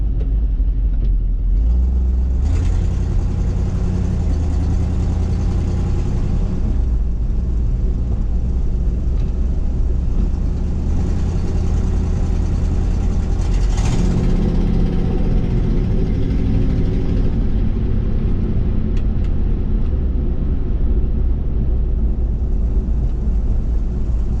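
A 1955 Ford F100 truck, running after sitting all winter, drones steadily from inside the cab during a road ride, its engine note swelling and easing through the trip with no talk.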